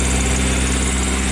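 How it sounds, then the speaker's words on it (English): A car engine idles steadily and loudly up close, a constant low rumble with a thin whine from the alternator belt running over it throughout. "Alternator belt's whiny"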